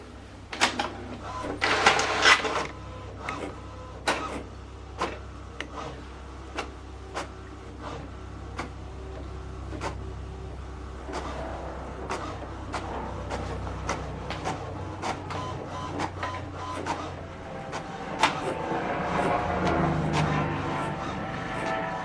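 An HP Deskjet 3700 printer aligning its cartridges gives a steady low motor hum, broken by sharp repeated clicks and ticks as the carriage shuttles back and forth, with brief busy whirring bursts near the start and end.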